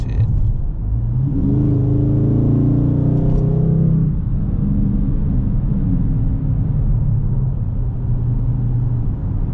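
A 2020 Dodge Charger Scat Pack with a 392 Hemi, 485 horsepower and 475 torque, accelerates hard from inside the cabin, a loud deep engine roar rising for a few seconds and then settling into a steady rumble.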